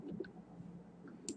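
A single quiet computer mouse click on a publish button, brief and close over a faint room background.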